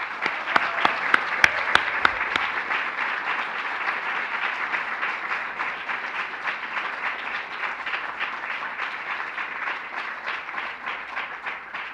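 Sustained applause from a graduation ceremony audience, opening with a few sharp, distinct claps before settling into a dense, steady wash of clapping that holds evenly throughout without speech.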